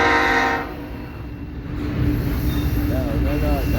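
Freight train of autoracks and 40-foot container cars rolling past at a rail diamond crossing, a loud steady rumble with wheel squeal and a brief horn-like tone at the start, and a faint voice.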